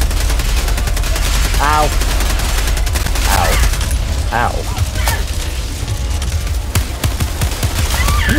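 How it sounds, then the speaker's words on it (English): Rapid bursts of automatic gunfire and explosive shots rattle through a Helldivers 2 battle, dense and loud from start to finish, with a brief pained yelp from a player partway through. "Can you stop shooting me, please?"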